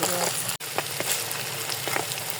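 Pointed gourd pakora frying in hot oil, a soft continuous sizzle with scattered crackling pops, close and fairly quiet, briefly interrupted by a short gap.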